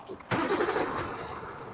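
A truck tractor unit's diesel engine cranks and catches with a sudden burst, then settles into a steady close rumble.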